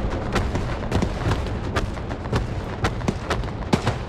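Bombing explosions and battlefield fire in the World War II shooter game Hell Let Loose during a church assault, with a dense rumbling bed punctuated by sharp distant blasts and cracks at irregular intervals, no speech.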